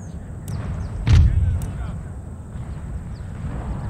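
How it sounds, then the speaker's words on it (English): Artillery bombardment in the Empire: Total War Maratha campaign, with a single loud, deep cannon boom near the one-second mark over a steady low battlefield rumble and a few faint sharp cracks. "We're just going to keep bombarding them until they want to come forward."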